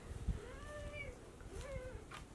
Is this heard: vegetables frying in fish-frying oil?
no